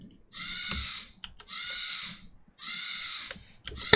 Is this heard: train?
no